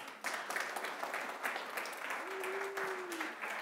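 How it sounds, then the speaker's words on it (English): A church congregation breaks into steady, moderately loud applause that fills the room and holds throughout, with a brief sustained tone rising out of the clapping near the end. "If you agree, applaud."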